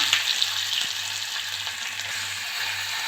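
Four large onions frying in a pan with cumin and curry leaves for egg curry sizzle steadily and closely, with a low hum beneath and an occasional faint scrape; no voices.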